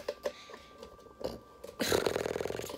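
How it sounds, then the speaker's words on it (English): After a few soft ticks and rustles, one long, loud, gravelly burp erupts near the microphone and rumbles on for about a second. "That burp felt good though."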